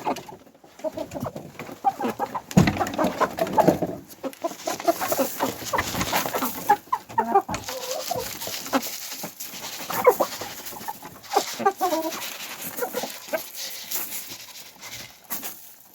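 A flock of hens clucks and murmurs busily while being fed grain in a farmyard, a steady close chorus of overlapping calls with occasional louder squawks.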